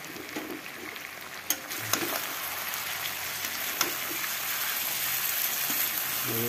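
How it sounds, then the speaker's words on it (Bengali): Mutton sautés in released oil during a Bengali-style slow frying, producing a continuous close sizzle with faint crackles, plus a few sharp clinks of a spatula stirring against the pot. "দেখতেই পাচ্ছেন মাংস পুরো কষানো চলছে, তেলও ছেড়ে দিয়েছে"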